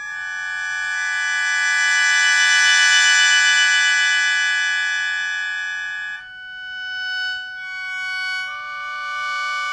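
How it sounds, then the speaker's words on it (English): Sho mouth organ sustaining dense, shimmering Gagaku chords, a steady reedy cluster that swells and then shifts through several chord changes, heard alone without talk. "Another peculiar instrument is the sho, which provides the harmonic landscape for Gagaku."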